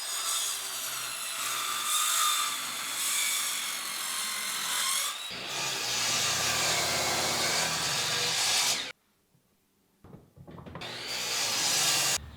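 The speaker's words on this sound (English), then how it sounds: "I'm going to cut off about 1 inch or so off the end of this board" A saw cutting the end off an 8/4 maple board, a loud, steady, rasping whine through the wood that drops briefly, resumes, then cuts off into near silence before starting again.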